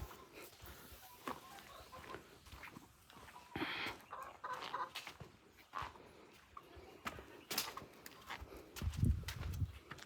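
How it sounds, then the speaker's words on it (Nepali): Chickens clucking around a rural farmyard, with scattered short clucks and calls at varied distances over a busy outdoor background, including a louder burst near the end. "यहाँ छ कुखुराहरू"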